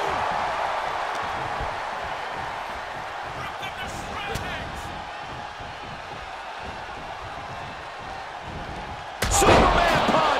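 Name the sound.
wrestler slamming opponent's face down in WWE 2K24 video game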